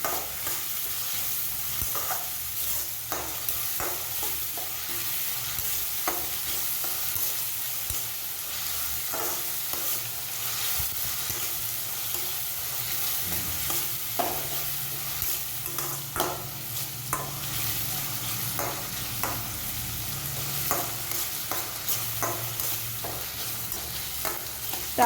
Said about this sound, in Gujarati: ડુંગળીને નાખી દઈશું. અને આને સાંતળી લઈશું.